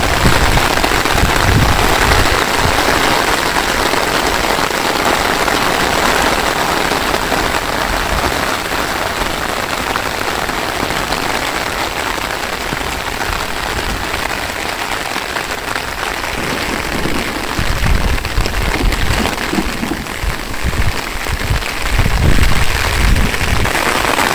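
Rain in a Bangladeshi village during the rainy season, a loud continuous hiss of drops on surfaces that swells a little near the end, with no voices.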